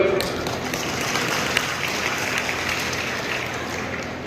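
A large crowd applauding at a mass rally for government guarantee-scheme beneficiaries, a steady, dense wash of clapping over several seconds with a voice speaking over it.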